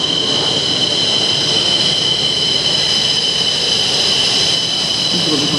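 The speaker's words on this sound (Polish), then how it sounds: "samolot 114 na usterzeniu ma namalowanego Eugeniusza Chorwaczewskiego" A Polish Air Force MiG-29A Fulcrum at the Radom Airshow produces a loud, constant jet roar with a high-pitched whine over a broad rumble, sustained without pause.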